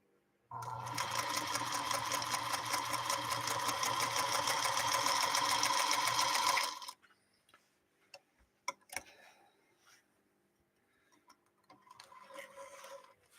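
A 1952 Singer "Princess of Singers" sewing machine stitches in a loud, steady rapid mechanical run lasting about six seconds, then stops, leaving faint clicks and handling sounds.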